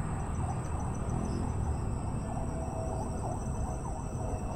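Faint sirens wail far off from a forest well away from the road, their rising and falling tones barely rising above a steady bed of chirping crickets and insects.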